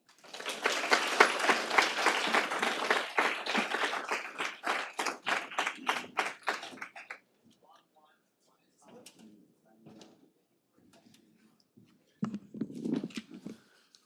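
Audience applause for the speakers at a local data and upward mobility event, a loud burst of dense clapping that thins into a few scattered claps and fades, followed by brief quiet talk near the end.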